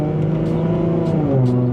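A Lexus IS250 XE20 facelift engine revs steadily near 3000 rpm and then drops pitch as the automatic gearbox shifts, a loud, close cabin hum with no talking.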